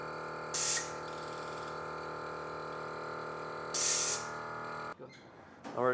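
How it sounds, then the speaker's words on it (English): A spray bottle of soapy water is squirted onto air line fittings during installation of an Air Lift WirelessAIR suspension system on a 2023 Ford. Two short, sharp hissing sprays sound a few seconds apart over a steady mechanical hum, which cuts off near the end. "We're going to spray the end of our air lines wherever they're going into any fitting."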